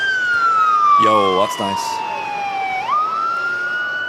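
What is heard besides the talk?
fire truck sirens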